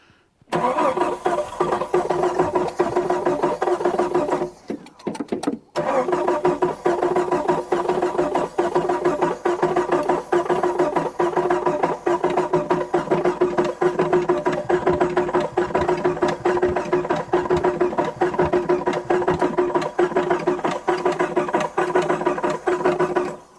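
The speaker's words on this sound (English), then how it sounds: "I think the starter just died." A Jeep YJ with a failing starter motor cranks its engine in a long, steady, whirring grind, broken by one brief pause before carrying on.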